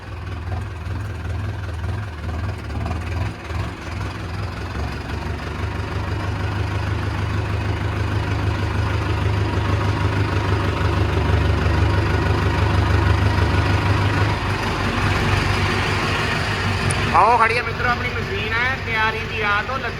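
A tractor engine idles with a steady low sound close by for most of the stretch, then its rumble shifts near the end as other clatter and mechanical noise rise.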